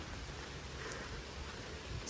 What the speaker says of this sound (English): Walking back to the rain, or walking back to the car in the rain.